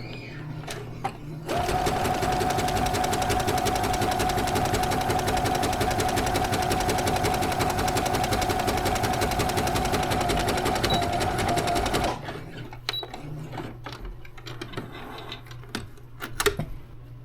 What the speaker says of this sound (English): Now you're ready to sew.